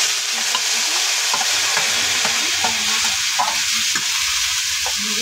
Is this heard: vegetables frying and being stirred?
yes